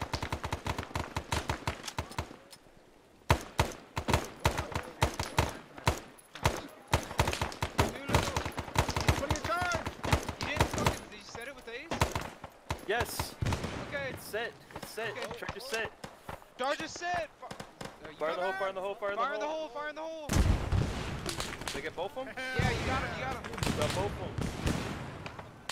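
Rapid bursts of automatic suppressing gunfire in a war video game battle for Hue City with Marines, loud and dense throughout, with shouted voices mixed in and a brief lull near the start.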